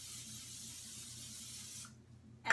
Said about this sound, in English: Spray a pan with a little bit of cooking spray.